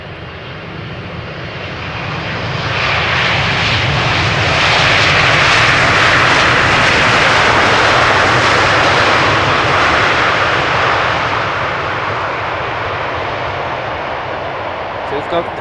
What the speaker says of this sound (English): KLM Flight 592. 777-300 arrived from Johannesburg. We saw it overhead before, now touching down after 10 hours and 18 minutes of flight.